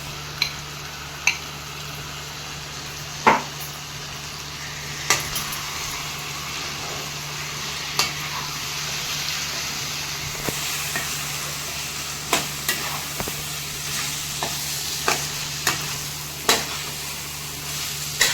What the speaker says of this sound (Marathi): आता आपण ही कोलंबी घेतली मुराला ठेवली होती मॅरिनेशन करायला ते टाकून घेऊया